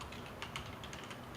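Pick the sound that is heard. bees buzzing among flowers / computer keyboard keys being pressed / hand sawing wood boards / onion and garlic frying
computer keyboard keys being pressed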